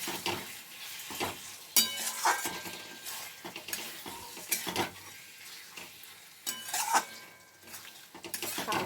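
Spice paste and potatoes being fried and stirred in a pan for a jackfruit seed curry, a soft sizzle beneath repeated scrapes and clinks of a spoon against the metal, some sharper knocks standing out.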